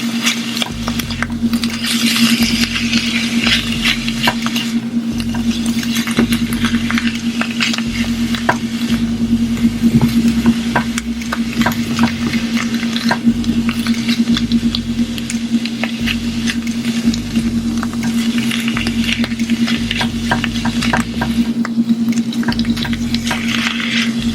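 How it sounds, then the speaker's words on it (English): Sausage, spinach, eggs and seasonings sizzle steadily in a hot pan while being stirred, with continuous frying crackle and soft rhythmic scraping and squishing from the spoon throughout. "mix it all until it's well combined"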